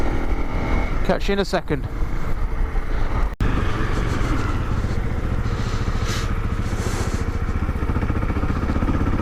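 Honda CRF 250 Rally motorcycle ridden on North Devon trails and lanes, its single-cylinder engine thrumming steadily up close after a brief spoken remark, with wind buffeting and a sharp knock partway through.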